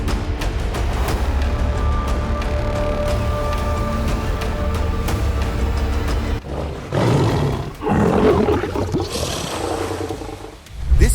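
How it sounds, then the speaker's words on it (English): A lion and a crocodile fight in the wild, with loud, sustained roaring and growling that carries on steadily and then breaks into rougher bursts toward the end. "In a battle between the king of the jungle and the king of the marsh, only roars are enough to declare a victor."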